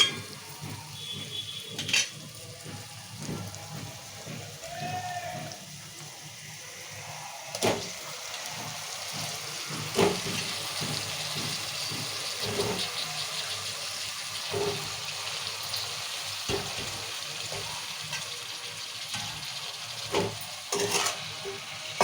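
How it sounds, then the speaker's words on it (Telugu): Eggplant pieces frying in oil in a pan for a masala curry, with a steady sizzle broken by repeated scrapes and clinks of a spoon stirring against the pan, close and moderately loud with no talking. "వంకాయలు వేసినాం కదా నూనెలో మంచిగా ఉడికించుకోవాలి"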